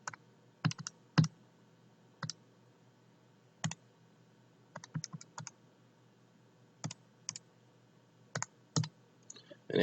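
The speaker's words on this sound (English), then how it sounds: "type it into your calculator" Calculator buttons pressed while entering values for a compound interest sum, giving a sparse series of light, close clicks in small clusters with pauses between, ending on a louder tap.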